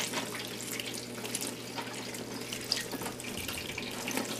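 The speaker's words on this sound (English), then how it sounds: "you want to take clean water and give it a rinse" Clean tap water runs steadily from a faucet into a sink, rinsing cottage cheese curds made from raw milk; a continuous splashing flow with no talking.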